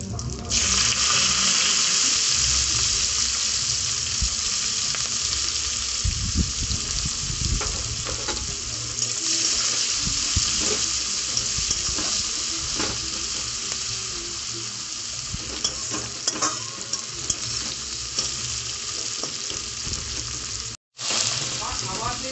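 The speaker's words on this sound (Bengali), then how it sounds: "পেঁয়াজটা আমার লাল লাল করে ভাজা হয়ে এসছে" Chopped onion and green chillies sizzle in hot oil in a pan, a dense, steady crackling hiss with occasional stirring scrapes and clatter, close and loud, ending with a brief cut.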